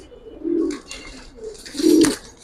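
A Giribaz pigeon gives two close, deep, throaty coos, each swelling and falling, with a short pause between them.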